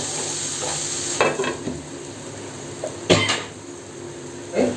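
Brinjal fries in oil in a pan with a constant low sizzle, punctuated by a few sharp scraping clatters as a spoon stirs the pieces, one stroke notably louder.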